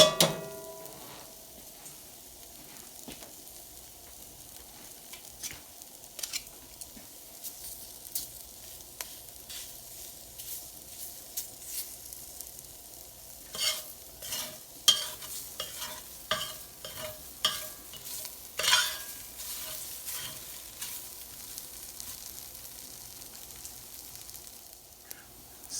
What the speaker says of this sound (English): So I have been turning this constantly, or stirring this constantly